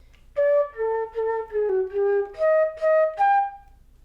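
A flute plays a measure, about eight clear sustained notes in a steady rhythm, close and alone with no talking.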